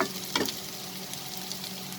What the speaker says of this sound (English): let's increase the flame and saute it for a minute so that it gets the fried texture